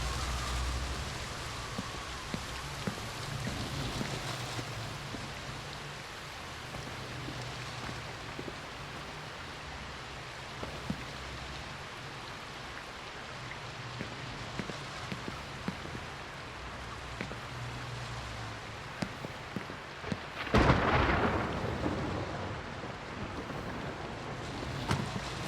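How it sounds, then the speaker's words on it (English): Steady rain pours in a game night scene from The Haunting of Joni Evers, a constant hiss with low rumbling, and a sharp thunder crack bursts loudly near the end before fading back into the downpour. "What is up with the storm?"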